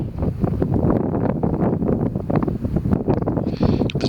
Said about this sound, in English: it's really windy, and this Sinex is not brilliant for audio when it's windy